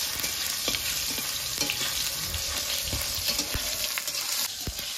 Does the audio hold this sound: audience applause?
no